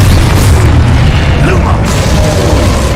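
A loud, sustained booming blast erupts from the Confringo explosion spell in Hogwarts Legacy, saturating the whole three seconds with dense rumble and crackle.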